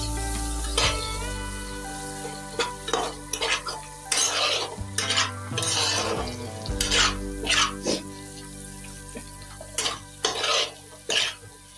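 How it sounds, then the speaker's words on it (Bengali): Coriander and cumin powder are stirred in a pan for paneer butter masala. A metal spoon scrapes and clinks in repeated bursts over a gentle continuous sizzle. "এবার এটা ভালো করে নাড়াচাড়া করে নেব"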